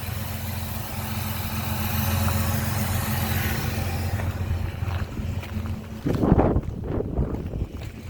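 A 2000 Jeep Grand Cherokee engine with an ignition coil rail misfire runs rough at idle, a steady low droning hum with wind noise, ending in a few louder knocks and rustles near the microphone.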